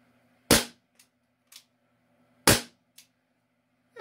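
An ASG Dan Wesson .357 CO2 pellet revolver dry fired with no shells loaded: two sharp, loud gas cracks about two seconds apart, each followed by faint mechanical clicks of the action, otherwise quiet.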